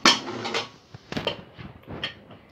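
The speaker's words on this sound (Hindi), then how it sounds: "कुकर खोल लेते हैं।" A pressure cooker is being opened after cooking pulao, giving a sharp metallic clank at the start followed by scattered clinks and knocks of the lid and pot, fairly close and with no talk.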